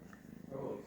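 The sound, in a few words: cat purring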